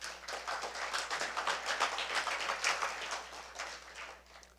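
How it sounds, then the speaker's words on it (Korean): Audience applause in a lecture hall during a university lecture, a steady patter of many hands clapping at moderate level for several seconds, easing off toward the end. "부시장께도 박수 한번 보내주십시오."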